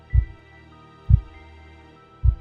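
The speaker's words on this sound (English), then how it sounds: "My heartbeat slowed." A slow, deep heartbeat thuds three times at steady, widely spaced intervals over a faint low hum, muffled and dark, with no voices present.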